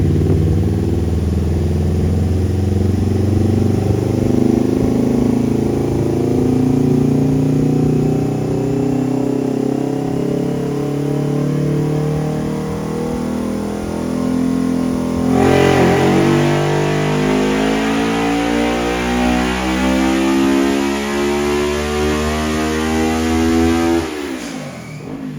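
A car engine revving hard on a dyno during a pull, a loud sustained mid-pitched drone climbing steadily through the rpm range, then a clattering drop as it lets off at the end.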